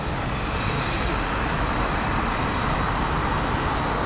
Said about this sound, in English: Better World livery from British Airways with their Airbus A320neo.